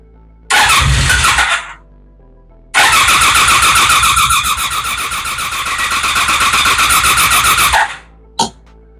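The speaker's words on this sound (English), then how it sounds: "Yeah, it tried to for a quick second and then it said, nope." A Honda Magna motorcycle engine cranks with the choke pulled, first a short burst, then a long steady churning starter run that catches briefly but fails to start, followed by a brief click; loud and close, no talk.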